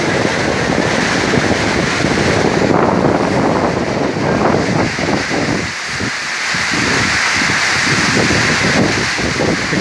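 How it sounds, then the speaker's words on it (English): Strong wind gusts across open water at a stilt water village as a rainstorm approaches, a loud continuous roar of buffeting wind noise with a brief lull midway. "the wind's blowing in, and the wind is winning that battle"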